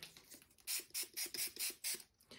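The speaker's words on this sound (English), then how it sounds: "I'm going to spritz my card with water too." A spray bottle spritzes about seven quick bursts in a row, close and crisp, each a short hissing puff with a faint click of the trigger.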